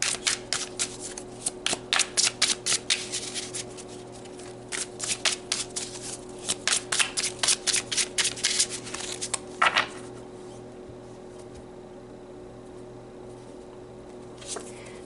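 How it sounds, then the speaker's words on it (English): Tarot cards are shuffled in quick, crisp riffling bursts over about ten seconds, then a short pause and a soft card pull, close and fairly quiet with no talking. "Let's pull a few more cards."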